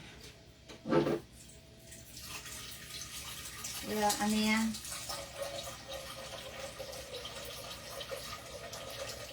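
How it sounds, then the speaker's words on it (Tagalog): Tap water pouring into a metal cooking pot at home, a brief splash followed by a rising filling gush, then a softer steady trickle, with someone speaking briefly over it. "Naglalagay lang ako ng tubig dito sa ano, kaldero"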